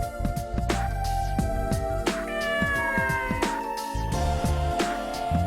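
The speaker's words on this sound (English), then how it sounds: "Is that a cat?" In the video game Mind Zero, a cat meows repeatedly and insistently, loud and close over layered game music, with no talking.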